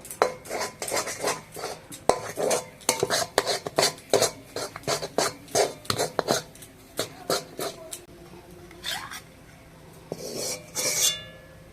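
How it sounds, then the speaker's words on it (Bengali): A metal spatula scrapes and clanks repeatedly against a wok as spinach kochuri filling is lifted out, giving a steady run of sharp, close scraping strokes that slow and thin out toward the end. "এবার আমি পুরটা কড়া থেকে উঠিয়ে নেব"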